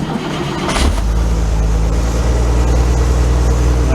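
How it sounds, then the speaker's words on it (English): A car engine that has been running on a gear oil, gasoline and ATF mix fires back up with a short starter crank, then settles into a loud, steady fast idle held open by a wedge of wood. "So I've had the engine running and fire it back up."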